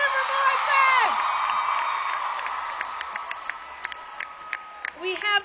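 Crowd cheering, whooping and clapping for an actor at a Comic Con panel, with loud shrieks of excitement at first that settle into scattered claps and shouts.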